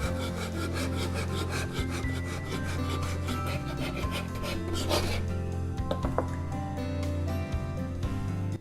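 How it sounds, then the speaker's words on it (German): A knife set to 1.5 cm slices horizontally through a sponge cake base for a Swedish princess cake, giving a soft, repeated sawing scrape. A low steady hum runs beneath the strokes throughout. "Diesen schönen Boden werden wir uns jetzt zweimal horizontal durchschneiden."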